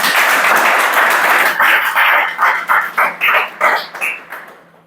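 A class of students breaks into loud, dense applause that holds steady, then thins into a few separate bursts of clapping that fade out toward the end.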